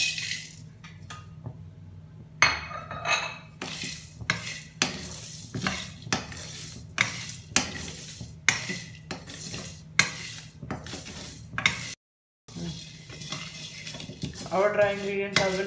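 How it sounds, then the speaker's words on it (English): Dry spices such as salt, red chili powder and turmeric being roasted in a kadhai, with a spoon stirring and scraping against the metal pan in repeated sharp clinks and scrapes, close and steady, with a faint sizzle underneath. "First of all, we will roast our dry ingredients."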